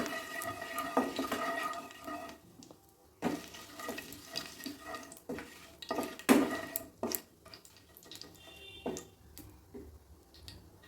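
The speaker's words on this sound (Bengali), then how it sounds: "গোটা জিরে, দারচিনি, লবঙ্গ আর একটা তেজপাতা ফোড়নের জন্য দিয়ে দিলাম" Whole cumin, cinnamon, cloves and a bay leaf temper in hot oil for a cauliflower dish, giving a soft, crackling sizzle broken by close clinks and scrapes of a utensil against the pan.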